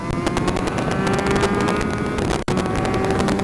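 A Suzuki GSX-R 750 project motorcycle screams along a race track at high revs, its loud, continuous engine roar laced with heavy wind buffeting and broken by one abrupt dip at a gear change.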